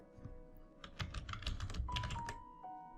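Keystrokes on a computer keyboard while a widget name is typed into a WordPress search box, a quick run of clicky taps over a low background hum, with a steady tone entering near the end.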